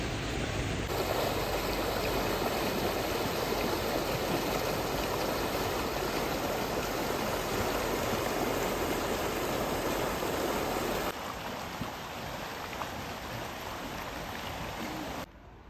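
Steady rushing of flowing water, a constant broadband babble that softens slightly partway through, with no voices.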